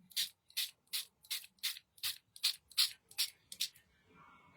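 Hand-held spray bottle of water misting onto artist trading cards: ten quick, evenly spaced hissing spritzes in a steady rhythm, close and crisp, then a quiet tail.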